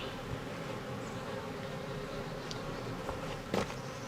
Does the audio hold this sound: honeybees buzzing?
yes